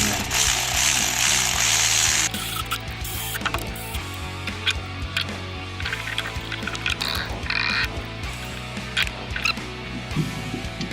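A ratchet tightens alternator bolts on a BMW X3, with dense mechanical clicking bursts close by against steady workshop noise, no voices.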